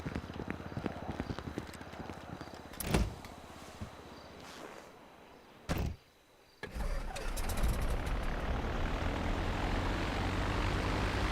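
An airplane engine in the game GTA Online, a continuous loud engine roar with a couple of sharp interruptions and a brief dropout, then a steady broadband rush that holds to the end.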